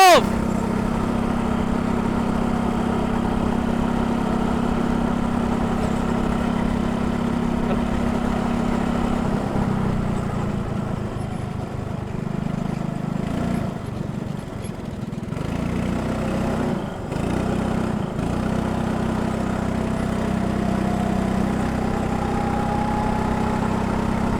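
A go-kart engine is held at full throttle on a racing track in Dhaka, giving a steady, loud mid-pitched drone that dips and shifts now and then across about twenty-four seconds, with voices talking over it.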